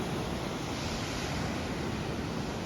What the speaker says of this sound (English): here we are at Agnes Waters beach